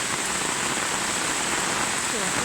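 Rain falls steadily on a cool late afternoon, a dense, even hiss of drops on surfaces that stays constant and close from start to finish.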